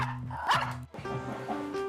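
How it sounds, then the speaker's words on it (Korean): A dog barks indoors at a practical music academy, giving a couple of sharp, close barks mixed with yips amid a dense, busy background; no one speaks. "학원으로 내려오자 또다시 짖는 잭슨"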